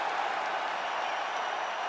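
Arena crowd applauding and cheering after a UFC fight in EA Sports UFC 5, a steady, loud wash of clapping and crowd roar with no gaps.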